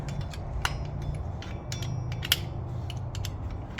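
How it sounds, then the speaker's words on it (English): Metal tool clicks and scrapes as a dust cap is pried off a wheel hub, a little at a time, on a Ford/Lincoln full-size truck or SUV during wheel bearing work; a few sharp ticks stand out over low workshop hum. "we're going to remove this dust cap here. Just going to go around a little bit at a time"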